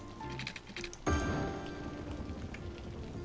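Steady rain pours during a thunderstorm in the city-building game Cities: Skylines, a dense even hiss that swells with a sudden loud gust about a second in and then holds as a constant wash.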